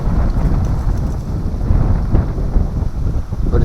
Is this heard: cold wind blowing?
yes